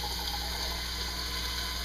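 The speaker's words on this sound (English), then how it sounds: "I'm going to take those cans of red beans and I'm going to pour them in" Canned red beans with their juice pour into a cooking pot, a steady, full, gushing liquid rush that stays close and continuous throughout.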